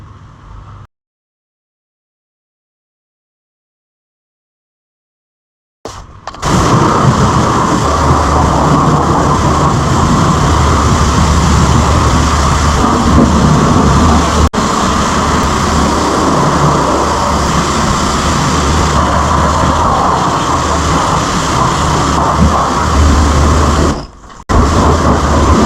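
Water sprays steadily onto the engine bay of a Peugeot 206 during washing, a loud, continuous hiss that starts after a short silence and runs for about eighteen seconds before it stops, with no voices.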